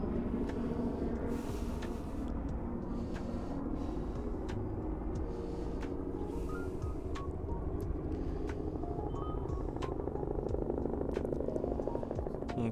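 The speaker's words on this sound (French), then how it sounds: "Et là il y a l'hélico qui passe." A tourist helicopter passing near the active volcano Mount Aso in Japan, a steady low rotor and engine drone that holds throughout and swells slightly toward the end, heard from a distance amid outdoor ambience.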